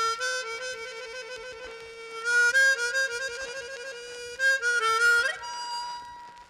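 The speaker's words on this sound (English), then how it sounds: "But the two that are easily played sound like this." Chromatic harmonica sounding whole-tone trills: reedy notes alternating rapidly in two separate bursts, loud and close with rich overtones, played alone.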